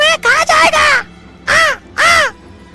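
A crow in a Hindi cartoon caws four times, loud and close: a quick pair, then two longer, harsh calls with gaps between them.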